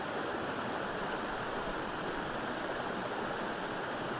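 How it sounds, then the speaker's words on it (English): Raging water rushes in a steady, dense, loud roar like a stream or waterfall close by, unbroken and with no voices. "in this beautiful space with this water raging before you"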